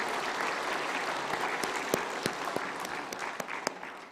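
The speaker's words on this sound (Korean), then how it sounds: "우리 장재원 집사님에게도 격려에 한번 박수해 주시면 감사하겠습니다" An audience applauds during a Korean Sunday communion service, with steady clapping filling the room and a few sharper individual claps standing out near the end.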